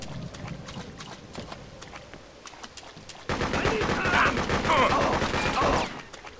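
Gunfire in the shooter game Freedom Fighters, faint scattered shots at first, then a loud sustained volley of rapid automatic fire in the second half that cuts off near the end.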